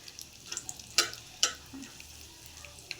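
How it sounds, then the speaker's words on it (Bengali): Bay leaf and whole garam masala crackle in hot oil in a wok, a soft continuous sizzle with two sharp clanks of a spoon against the metal and lighter stirring ticks. "এবার কড়ার মধ্যে আমি তেজপাতা দেবো আর গোটা গরম মশলা ফোড়নে দেবো"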